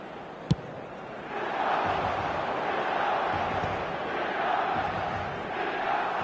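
Crowd at a football stadium during a match with Rafael Leao, a sharp thump followed by a rising, sustained roar of many voices that swells and holds at a distance throughout.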